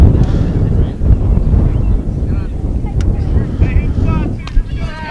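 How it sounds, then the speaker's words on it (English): A big gust of wind pushes across a high school baseball field at West Perry High School during a game, a steady loud rumble of wind buffeting the microphone throughout, with faint crowd sounds beneath. "Big gust of wind pushing through here at West Perry High School."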